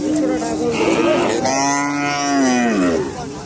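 Cattle at a crowded cattle market low in a single long, loud moo near at hand, with people's voices and market bustle underneath.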